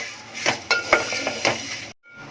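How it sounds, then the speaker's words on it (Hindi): Coriander roasts in a pan over a low gas flame as a utensil stirs and scrapes it in repeated, close metallic swishes over a soft sizzle, then it cuts to near silence. "1 मिनट धनिया को भूनूंगी, बारीक गैस पर ये सब कर रही हूँ"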